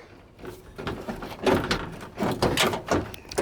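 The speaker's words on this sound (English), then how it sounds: "This outer door handle does not work." The broken outer door handle of a 1973 Ford F-250 High Boy 4x4 is tried, giving several close metallic clicks, clunks and rattles in uneven bursts, with no talking.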